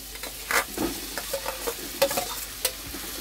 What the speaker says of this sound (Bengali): এখানে দিয়ে দেবো আলু সিদ্ধটা